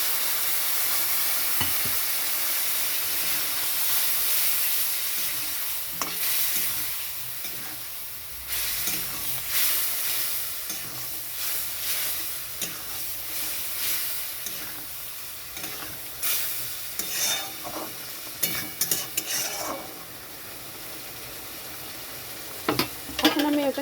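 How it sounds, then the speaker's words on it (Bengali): Masala of turmeric, cumin, Kashmiri chili powder and salt frying in a pan with added water, a steady sizzle and steamy hiss with intermittent stirring scrapes, close and moderately loud, no talking. "এখানে আমি দিয়ে দিচ্ছি জল পরিমাণ মতন মশলাটা কষানোর জন্য।"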